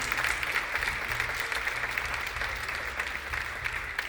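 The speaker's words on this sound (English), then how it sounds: "clap it up for them" An audience at a gala claps continuously for the honorees. The dense applause is moderately loud and stays even for the whole stretch, with no voice on top.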